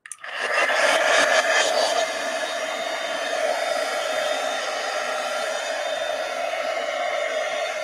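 A hair dryer blows steadily to dry paint on a craft cover, with a loud, even whoosh and a faint whine that run unbroken from start to finish.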